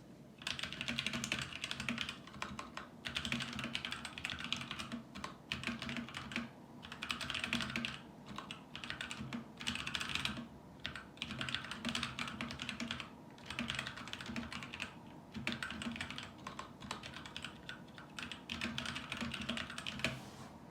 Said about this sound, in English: I don't know if you can see what I'm typing